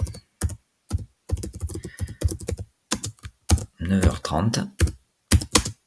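Rapid clicking keystrokes on a computer keyboard in bursts with short pauses, close and clear, while someone speaks French between and over the typing.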